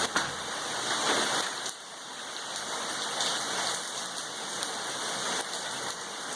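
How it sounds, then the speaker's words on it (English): Heavy rain pours steadily in a storm with strong wind, a dense continuous hiss with slight surges and no clear voices. "Lots of wind, lots of rain,"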